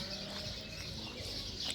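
Domestic white ducks calling briefly in a farmyard, a short burst of nasal clucking and quacking over a constant rustling outdoor background.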